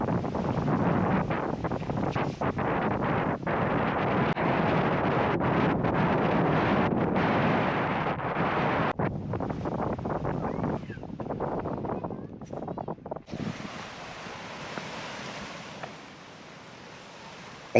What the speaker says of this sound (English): time to head back and escape this terrible wind